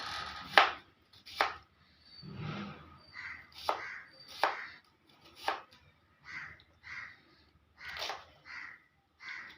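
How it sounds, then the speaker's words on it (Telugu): Onions being cut into thick pieces with a knife, a series of about a dozen crisp chops at an uneven, unhurried rhythm, close and clear against a quiet background. "ఉల్లిపాయలు అయితే ఒక 3 ఉల్లిపాయలు ముక్కలు చేసుకోవాలండి"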